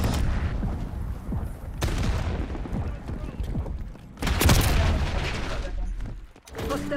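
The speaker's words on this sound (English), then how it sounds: "Frag throw!" A frag grenade explosion in the Call of Duty: Black Ops video game, a loud boom bursting out of dense, continuous gunfire and battle noise around the middle.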